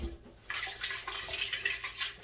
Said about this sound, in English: I just put a little bit of extra water